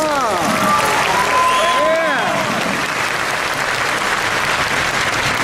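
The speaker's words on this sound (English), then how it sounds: "Can you give all of yourselves one big applause?" Audience applause at a large OneCoin promotional event in London: a loud, sustained roar of clapping from a big crowd, with cheers and whoops rising over it in the first couple of seconds before it settles into even clapping.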